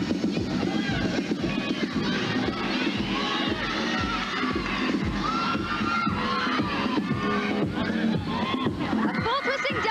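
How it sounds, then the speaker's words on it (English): A 1991 collegiate gymnastics competition crowd cheers and shouts steadily, with dense babble and excited voices filling the arena throughout. "Arizona State cheering on all these girls"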